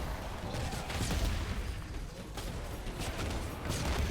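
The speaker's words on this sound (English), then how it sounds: "where's all these explosions coming from?" Explosions from traps in the video game Fortnite go off repeatedly across a dense, noisy battle, with bursts clustered like a fusillade and steady rumble underneath.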